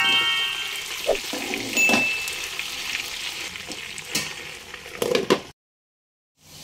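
Potatoes frying in oil over medium flame for Kashmiri dum aloo, a close, busy sizzle broken by stirring clatter and knocks before it cuts off abruptly into silence near the end.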